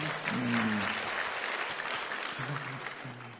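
A seminar audience applauds, a brief steady wash of clapping with a voice speaking faintly over parts of it.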